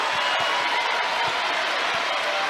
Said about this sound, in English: Crowd is on their feet.